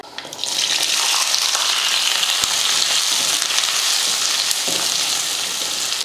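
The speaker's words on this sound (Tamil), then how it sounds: "வெங்காயத்தை ரொம்ப கருக விடாமல் இது போல் இந்த பச்சை வாடைக்காக வதக்கிட்டு" Onions, garlic and curry leaves frying in a pan, a loud close sizzle that swells in after a quiet start and holds steady, with a couple of small knocks.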